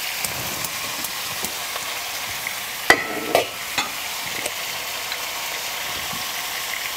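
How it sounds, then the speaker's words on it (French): Onions and meat sear in hot oil in a pan for a Moroccan-style meat dish, a constant fine crackling sizzle with a few sharp clacks of a utensil against the pan. "C'est le moment où la viande va être saisie."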